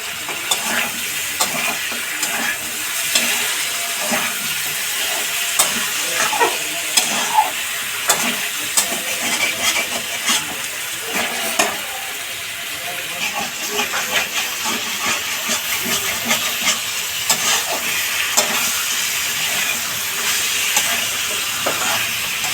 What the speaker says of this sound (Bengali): তেল দিয়ে দিচ্ছি, কটা শিম কেটে রেখেছি, শিমগুলো দিয়ে দেবো এখন।